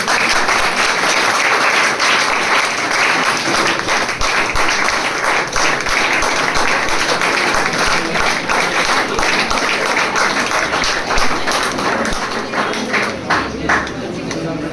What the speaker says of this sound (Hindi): उनके लिए जोरदार ताली हो जाए